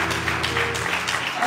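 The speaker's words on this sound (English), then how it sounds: "You can go ahead and clap your hands right now." Audience at a Drew County MLK celebration clapping, a steady, dense wash of applause that holds throughout at moderate loudness with a faint low hum underneath.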